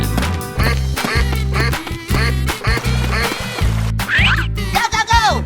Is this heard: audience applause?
no